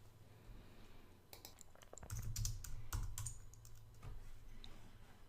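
Someone types a chmod command on a computer keyboard, a quick, irregular run of soft key clicks close by, with a denser burst in the middle.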